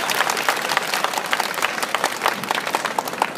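Crowd applause at an outdoor anniversary celebration for an online news outlet: a continuous, dense wash of many hands clapping, steady and fairly loud from start to finish.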